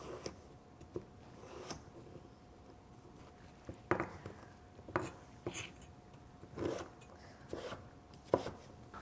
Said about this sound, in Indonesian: kita akan memotong labu siam ini menjadi ukuran dadu kecil